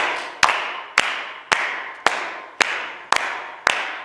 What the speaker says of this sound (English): So the first thing we're going to do is just clap a down beat.